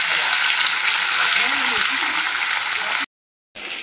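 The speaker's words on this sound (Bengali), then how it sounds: "আমুদি মাছ কটা এই কটা ভাজবো" Bhola and amudi fish frying in a home kitchen, a loud, dense sizzle and spatter close by that runs steadily, cuts out abruptly to silence, then resumes briefly at the end.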